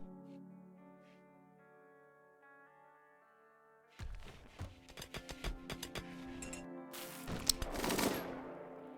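Turret fire in a base-building strategy game: after a quiet tonal passage, a rapid burst of sharp repeated shots breaks out, followed by a louder crackling blast near the end, all fairly close with game music underneath.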